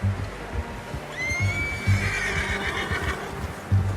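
A horse whinnies in Red Dead Redemption 2, a long shrill rising-then-falling neigh in the middle, over a backdrop of hoof clops and a low rumble, with no talk.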